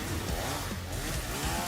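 An animated chainsaw revs in a Denji versus Yuji battle, a buzzy, raspy motor snarl that stays loud and continuous through the short burst.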